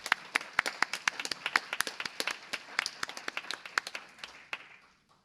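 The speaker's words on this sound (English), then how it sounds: "how about a round of applause for all of them?" A room full of people applauds the winners of a creative writing competition, many hands clapping in a dense, lively burst that holds steady before tapering off toward the end.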